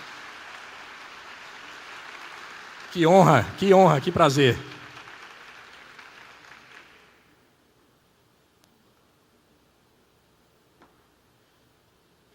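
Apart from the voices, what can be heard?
audience applause welcoming guests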